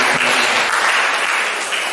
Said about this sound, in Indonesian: Tepuk tangan untuk saudara tersebut.